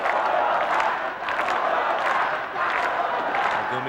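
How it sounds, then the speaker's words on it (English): A large crowd at a deathmatch wrestling event roars continuously in an indoor arena, with scattered cheers, whoops and claps in a dense, steady wall of noise. "You can hear them crowding."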